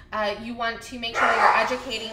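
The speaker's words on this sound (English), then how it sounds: "I have 3 Siberian Huskies, so" Several Siberian Huskies bark and yip in the background of a home, loud and excited, under continuous speech from a person talking over them.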